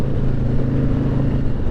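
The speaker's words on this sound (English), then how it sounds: "This bike is set up for the open road." A 2020 Harley-Davidson Street Glide Special (FLHXS) custom build running on the open road, its engine a steady, close, loud low rumble throughout with no talk.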